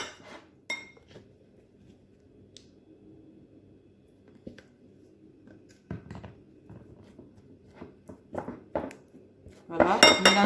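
A utensil stirs honey into an anti-acne face paste in a bowl, giving scattered soft scrapes and light clinks that grow busier and louder toward the end.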